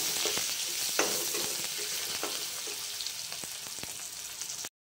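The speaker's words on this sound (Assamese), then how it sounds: "এতিয়া ভাজিব অলপ সময়" Onion frying in a pan, a continuous close sizzle broken by occasional light scrapes and taps of a spatula, then cutting off abruptly.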